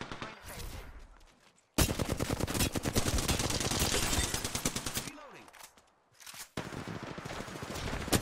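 Rapid automatic gunfire in an Apex Legends match, long dense bursts of shots broken by short pauses, loud and close, with brief voices in between.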